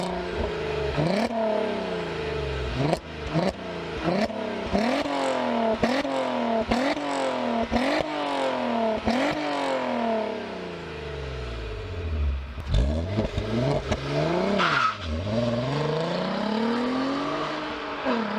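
A sports car accelerates hard, its engine revving up through repeated gear changes in a rising, stepped pattern, then roaring past with a doppler drop and fading; loud and close, no voices.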